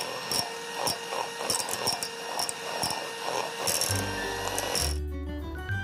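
An electric beater whirs steadily through whipping cream with a light mechanical buzz, then the motor tone shifts and cuts off near the end.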